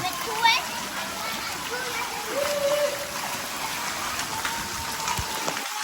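Heavy rain pours over a Pakistani village, a steady, dense hiss with scattered splashes close by, while voices talk faintly in the background.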